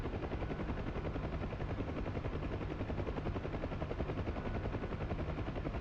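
A Hind attack helicopter in a video game flies with a constant chopping rotor drone, steady and fairly faint throughout, with no voices over it.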